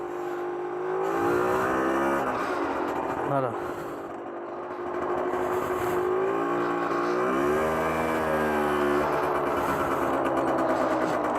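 A 50cc motorcycle pulls away in first gear as the throttle is opened, its small engine buzzing and rising in pitch, heard close with a person speaking briefly over it.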